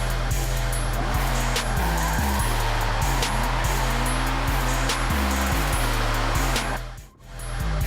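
Car drifting in Forza 7, engine revving in stepped surges while tires squeal continuously through the slide, loud and close, easing off briefly near the end.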